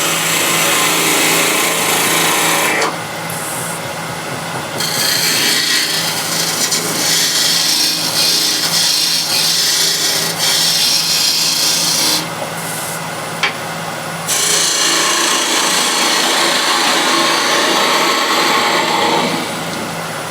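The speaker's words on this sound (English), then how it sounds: "Again, I grab the skew just to clean it up." A skew chisel cuts across a spinning wood blank on a lathe, a continuous hissing scrape with the motor's steady hum beneath, broken by short pauses where the tool lifts off before cutting resumes.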